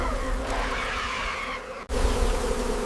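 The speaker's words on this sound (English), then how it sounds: "In panic, they disturb a hidden bee nest." A swarm of bees pours out of a disturbed wild nest in rough brushland, making a dense, loud, continuous angry buzz that fills the whole span and breaks off for an instant near the end.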